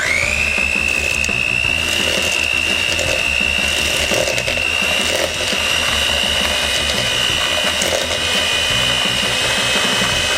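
An electric mixer creams butter and sugar for Oreo-stuffed chocolate chip cookies, its motor whirring loud and steady throughout with a constant high whine and rattling beaters, no voices.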